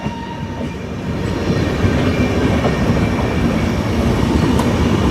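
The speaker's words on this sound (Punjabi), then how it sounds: "ਤੁਸੀਂ ਆਪਣੀ ਵੀਡੀਓ ਤੇ ਦੇਖ ਰਹੇ ਹੋ ਚੱਲ ਰਹੀ ਹੈ ਟ੍ਰੇਨ" A train rumbling steadily along the tracks near Sirhind, Punjab, loud and close, with a continuous rolling roar and no voices.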